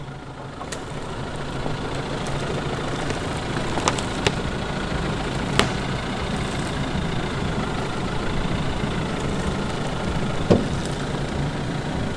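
A 4x4 engine labours over ruts on a dirt track near Kempsey, a steady low rumble held under the revs with occasional knocks and clunks from the body, close and continuous with no voices.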